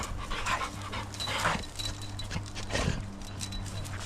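A dog pants quickly and close by in the mountains, its rhythmic breaths soft and continuous with faint outdoor background noise.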